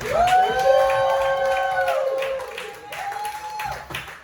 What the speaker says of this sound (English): Please clap your hands. You know the drill by now. And stomp your feet.